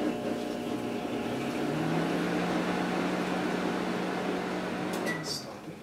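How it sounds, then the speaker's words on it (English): A typical household microwave oven running in pizza mode, giving a steady close hum with a low drone throughout, then a couple of short beeps near the end as the sound fades slightly. "watch what happens when we turn the microwave on to the pizza mode"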